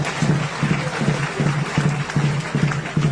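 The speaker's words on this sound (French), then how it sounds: "On peut l'acclamer à votre effort." An outdoor crowd at a ceremonial gathering bursts into applause, a steady wash of clapping with rhythmic, evenly spaced beats running throughout.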